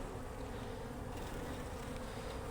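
Honey bees buzz at a frame lifted from a struggling hive, making a dense, continuous close-up drone with no pauses or talking.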